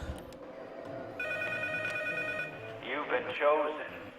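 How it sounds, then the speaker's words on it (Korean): Telephone ringing in the horror game Silent Hill P.T., a steady electronic ring at moderate level, with someone talking over the ring and after it ends. "지금 전화 왔습니다"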